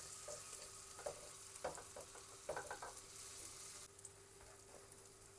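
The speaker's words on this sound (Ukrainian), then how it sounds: "Трішечки масла додаю" Butter melting in a frying pan crackles and sizzles softly, with small spitting pops and faint stirring clicks, quiet and close with a low background hum.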